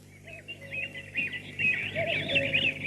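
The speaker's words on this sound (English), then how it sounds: "all the birds were singing blithely among the leaves" Small birds chirp and twitter among leaves, a lively run of overlapping high calls that builds slightly, fairly faint and with no voices.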